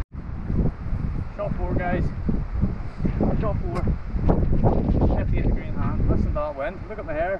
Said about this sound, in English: The wind's just the wind is literally just pulling everything to the right,